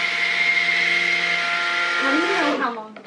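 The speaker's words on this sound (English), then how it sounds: "I'm gonna burp my stick blender. Means I'm tapping it on the bottom to get the bubbles out, and I'm gonna start mixing" A stick blender whirs steadily through soap batter for a peach bellini soap, a loud continuous motor drone whose pitch dips and wavers near the end before it cuts off.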